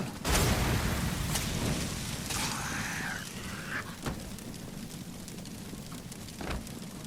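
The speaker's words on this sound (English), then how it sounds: "let's go ahead and test the Incendiary Grenade on that one molded" An incendiary grenade bursts into flames in the video game Resident Evil 7, a sharp thump followed by a dense, crackling roar of fire that holds steady and loud throughout, with a few further thuds.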